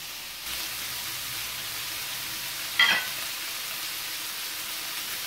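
Kefta skewers frying in a pan give off a steady, even sizzle throughout, with a brief louder crackle near the middle as the meat is stirred or moved.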